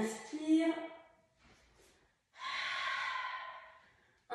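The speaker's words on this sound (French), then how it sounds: "Et on inspire." A deep inhale during a Pilates exercise, taken close and audibly through the nose and mouth. It follows a short spoken instruction and comes after a brief pause.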